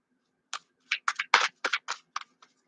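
Cards of a tarot oracle deck being shuffled, a run of about ten short, crisp papery flicks and riffles in quick irregular bursts, close and fairly quiet.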